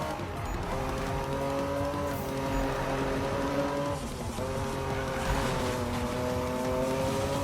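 A BMW M3 GTR race car in Need for Speed Most Wanted: a loud, continuous engine roar with rising and falling revs and some tire noise, throughout.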